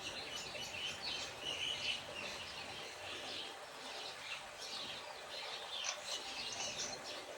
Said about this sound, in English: now that you point out the birds, they are very, very, very noisy